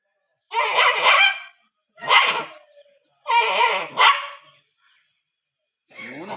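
A dog barks in three or four loud, close bursts separated by short silences, with no other sound between them.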